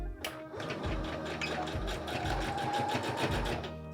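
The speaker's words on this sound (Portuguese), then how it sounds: "ponto tamanho 3 aqui na minha máquina para ficar um pesponto mais bonito" A sewing machine sews a straight topstitch at stitch length 3 in white contrast thread on a small phone-pouch bag, running as a close, steady rapid whir of needle strokes throughout.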